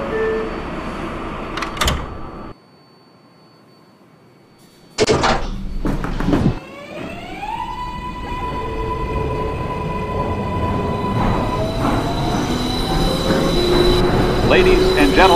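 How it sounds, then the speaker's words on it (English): R142A subway train on the 6 line in the Hmmsim 2 simulator: a door chime and doors thudding shut after a silent gap, then motor whine rising in pitch as the train pulls away, with steady rolling rumble. "Stand clear of the closing doors,"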